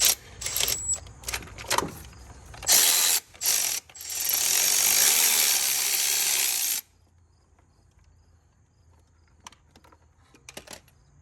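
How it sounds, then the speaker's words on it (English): A ratchet on a special bit loosens a reverse-thread oil control valve on a VW 2.0T engine, clicking in quick close bursts and then a steady whirring spin for a few seconds before falling nearly silent with faint taps. "take out this oil control valve here, and this is reverse thread, so not the typical way. We're tightening it to loosen it."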